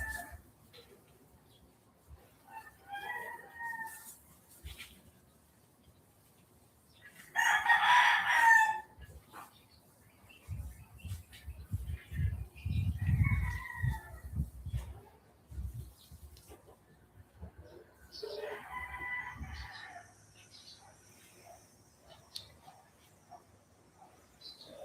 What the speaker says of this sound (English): making the chickens crow